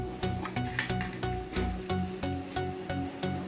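Potato cheese ball stuffing being mixed by hand in a bowl, with a steady run of soft clinks and scrapes against the dish at a close, moderate level.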